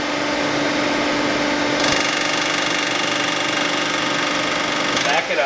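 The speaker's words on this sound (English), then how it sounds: "So we just touch with the cutter." PCD cutter on a resurfacing machine touching down on a cylinder head, a steady machine whine and hum with a brighter scraping tone added partway through, close.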